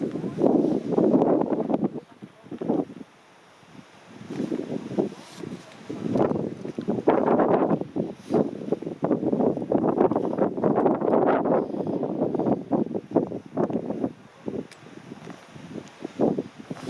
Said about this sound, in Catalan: fot un vent que t'hi cagues